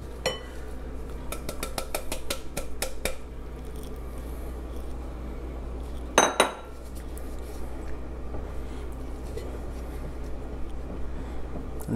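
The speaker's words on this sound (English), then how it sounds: "just stir that all the way through and mix it all together" Chocolate chip cookie dough is stirred and folded in a bowl, with a quick run of utensil clinks and scrapes early, one sharper clatter midway, then quieter scraping over a soft background.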